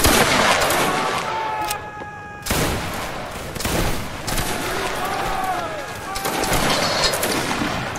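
Napoleonic musket volleys crack out in a multiplayer line-battle game, several loud ragged bursts of gunfire layered with rattling shots and echoes, with voices talking over them.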